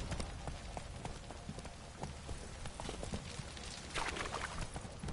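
Horse hooves galloping at speed in The Witcher 3, a steady fast clip-clop rhythm running throughout over a dense game soundscape, with a brief louder burst of hoofbeats near the end.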